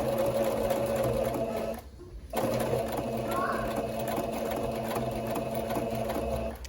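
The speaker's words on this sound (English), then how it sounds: "put your presser foot down and backstitch" A home sewing machine stitches and backstitches a diaper cover with steady close mechanical whirring, briefly stopping partway before resuming, with no voices.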